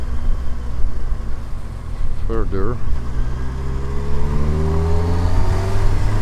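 A motorcycle rides along a quiet, winding road, its steady engine drone and wind noise loud throughout, with a brief rising tone partway through and someone talking over it.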